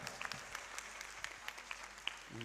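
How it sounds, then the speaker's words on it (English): Applause at a Vigilance Awareness Week 2022 valedictory function: a faint, thin patter of hand claps from a modest audience, steady and distant for a couple of seconds. "So big round of applause."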